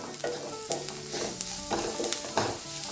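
Onion and ground masala sautéing in a pan for an aloo mutter curry, a steady close sizzle broken by repeated scraping stirs of a spoon, with no voices.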